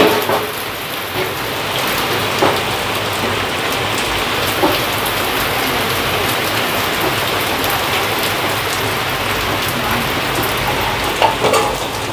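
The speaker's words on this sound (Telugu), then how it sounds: "వర్షం పడుతుంది ఫ్రెండ్స్" Steady rain falls throughout, a dense, even hiss of drops with occasional louder patters on a surface, close and continuous with no talking.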